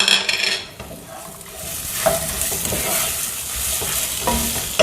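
Steady sizzling and frying of large onions in a pan, with occasional scraping stirs, loud and close, no voices.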